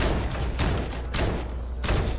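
Gunfire in the Fortnite battle royale, a string of loud sharp shots in about four spaced bursts over steady game noise, close and dominant with no talking.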